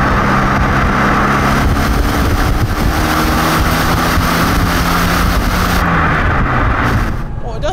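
A Radford De Ville recreation of the original Mini is driven with a loud engine revving and building, and heavy wind noise over it. The sound cuts off abruptly near the end, with some talk mixed in.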